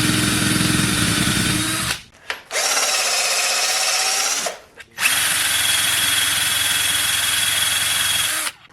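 An aluminum AN fitting is resurfaced with a lapping tool driven by a drill, heard as three loud bursts of steady, high motor whine separated by short pauses.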